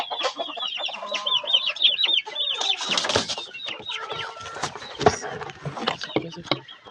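A hen sits in her nest about to lay an egg, giving repeated close, chattering clucks and cackles in uneven bursts, with a person's voice faintly mixed in.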